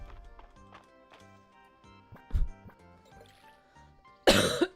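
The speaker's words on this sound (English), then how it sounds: "this cough is old, man" A person coughs during a Fields of Mistria farming-game session: one loud, harsh burst near the end, preceded by a shorter cough, over soft game music with gentle plucked notes.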